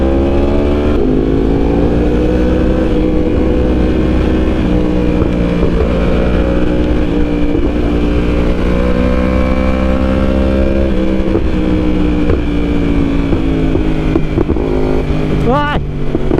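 A Yamaha R1 sport motorcycle is ridden, its engine a loud, continuous drone that shifts in pitch as it revs. Some talking may sit partly under the engine noise.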